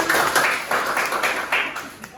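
Classmates in a primary school classroom clap together in a brief burst of rhythmic handclaps, close and fairly loud, with a few voices mixed in.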